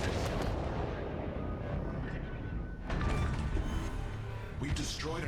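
Naval guns of a cruiser firing in World of Warships Legends, likely 5-inch shells, booming repeatedly as loud continuous battle noise with dense rumble and blasts throughout.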